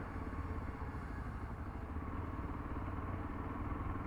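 A Yezdi Adventure motorcycle rumbles along on a ride after its first service, a low steady engine thrum with rattling texture, even and continuous with no talk.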